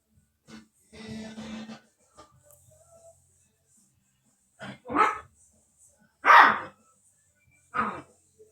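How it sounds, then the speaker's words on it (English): A dog named Buster barks indoors in a few separate sharp woofs spaced a second or so apart, fairly close, with some quieter shuffling and a short burst of other noise earlier. "Hear my dog getting at it, Buster."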